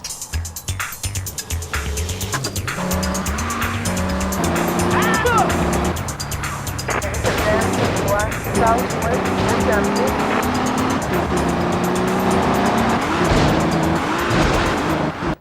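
Car engine revving and tyres squealing in a PlayStation racing game, continuous and loud throughout with skids and passing engine tones, a voice talking over it.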